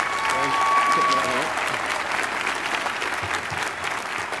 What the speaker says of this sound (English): I would really like to give him a round of applause as well